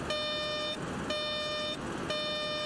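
A FlyJsim 727 cockpit warning alarm in a flight simulator sounds as a repeating electronic tone, three loud steady pulses about a second apart, alone without talk.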